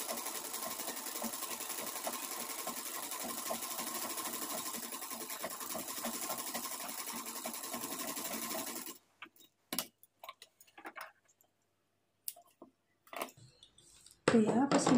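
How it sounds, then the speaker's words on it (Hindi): Steady, continuous hum and whir of a sewing machine stitching around the edges of a blouse latkan for about nine seconds, then stopping, followed by quiet handling noises and brief speech at the end. "इस तरह से सिलाई लगा लेना है चारों तरफ।"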